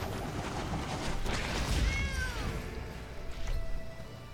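A cat meows once, clear and fairly loud, from the Sacred Cat card in the game MTG Arena, followed by a short fainter chime.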